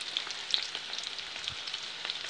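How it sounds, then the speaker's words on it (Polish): Minced meat patties with pepper shallow-fried in a generous layer of oil in a full pan, giving a steady close crackling sizzle with scattered sharp pops throughout. "Smażę je z dwóch stron,"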